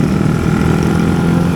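Motorcycles line up in city traffic, their engines making a dense, loud, continuous drone close by with no talk over it.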